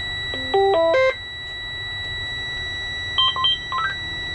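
A bus instrument panel gives off a quick run of electronic tones that rise in steps, followed by a pause and then a second, softer cluster of short beeps over a low engine hum.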